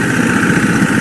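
Honda Africa Twin motorcycle engine held against the rear brake and given more throttle, a loud, steady mid-pitched drone with a continuous low rumble running evenly throughout.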